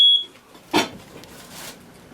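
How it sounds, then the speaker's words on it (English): Kitchen smoke detector going off while cooking: a single short high electronic beep at the very start, then quiet room noise and a couple of soft knocks. "Let me show you how to turn the smoke detector off."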